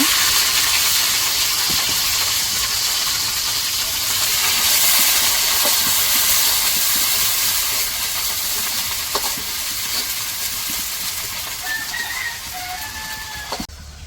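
Onions fry in hot oil in a kadai for chicken curry, a steady loud hiss and sizzle with faint stirring clicks, with no talking.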